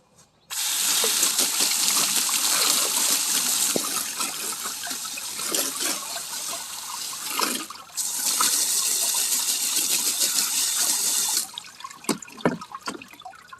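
Water pours and splashes steadily while dirt is rinsed off plant roots outdoors, a loud continuous gush with a brief dip midway before it stops near the end.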